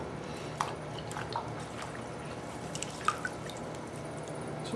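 Water dripping and squelching softly as it is sponged out of the bottom of a freshly thrown clay pot on a pottery wheel, a few faint scattered drips and light wet sounds over low background noise.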